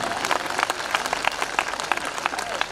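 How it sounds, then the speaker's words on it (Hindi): An audience claps at a live Hindi comedy and satire performance, a dense, lively wash of many hands at close range with steady intensity throughout. "तालियां कम हैं आपकी।"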